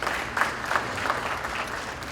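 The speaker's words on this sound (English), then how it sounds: "give Lyft a hand clap." Audience applause at a Haitian community partners gala in Boston, a steady wash of many hands clapping in a large room, fairly close and continuous with a few sharper peaks and no talk over it.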